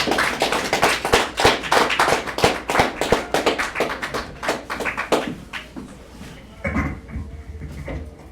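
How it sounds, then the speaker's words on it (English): An audience at a talk on Black psychotherapy gives a round of applause, a burst of dense, close handclaps that thins out and fades over several seconds. "Give yourselves a round of applause"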